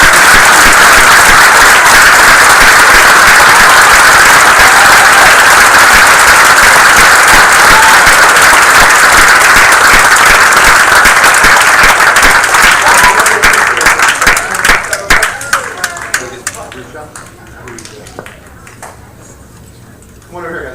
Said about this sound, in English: a round of applause for all of our